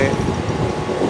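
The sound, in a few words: train at Govandi station on Mumbai harbour rail line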